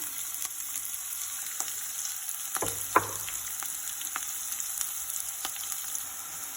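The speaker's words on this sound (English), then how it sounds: "So here I have some chopped onion and I'm going to add this one." Chopped onion frying in a pan for masala dosa filling, a quiet even sizzle with a brief scrape or clatter near the middle and faint ticks of stirring.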